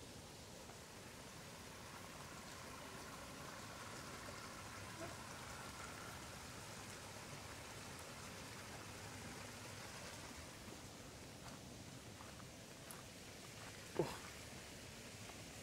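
Small trickling waterfall beside a hiking trail in a mosquito-filled reservation, a steady faint wash of running water throughout with one brief sharp knock near the end, no talking.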